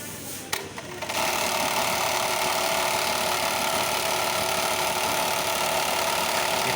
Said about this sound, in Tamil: கட் பண்ணதில் இப்போ தையல் போடுறாங்க.